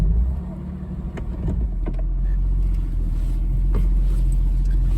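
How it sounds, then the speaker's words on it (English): A 1965 Mercedes-Benz 220SE Cabriolet driven slowly while being steered, its engine giving a steady low rumble that builds slightly, with faint clicks and creaks over it. "One-handed driving a Mercedes."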